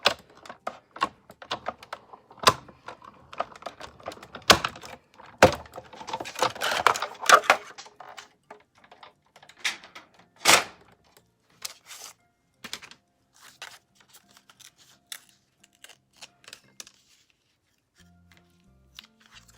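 Cardstock being cut for a handmade spinner card, a string of quiet, sharp snips and clicks in uneven bursts, close and fading toward the end, with no talking.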